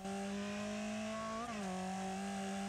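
Engine of the Gorbie rally car in the Wreckfest racing game, a steady high-pitched drone held near and loud, with a brief rise and dip in pitch partway through.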